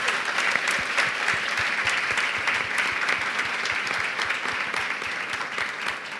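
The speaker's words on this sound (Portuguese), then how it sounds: "Vamos uma salva de palmas para Abdias" An audience at a book fair talk applauds steadily for several seconds, a dense, even patter of many hands clapping at a moderate distance, with no voices standing out.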